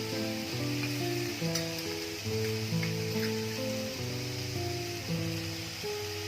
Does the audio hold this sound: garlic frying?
yes